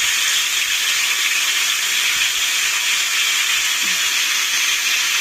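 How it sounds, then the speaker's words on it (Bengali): Potatoes fry in oil with a loud, steady, unbroken sizzling hiss close up and no other sounds. "এরকম আলুটা ভাজা হোক"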